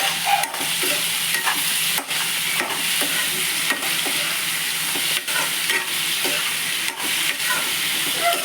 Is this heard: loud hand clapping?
no